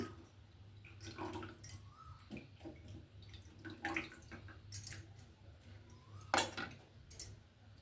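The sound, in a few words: squeezing juice from soaked tamarind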